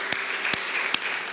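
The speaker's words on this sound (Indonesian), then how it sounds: "Tepuk tangan dulu buat Tuhan Yesus." A church congregation applauds during a sermon, a steady spread of clapping at moderate loudness broken by a few sharper, more distinct claps.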